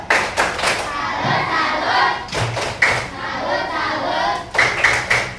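Rhythmic group clapping chant, a tepuk salut cheer for a pupil in a classroom, with bursts of hand claps and thumps recurring in a patterned beat amid children's voices.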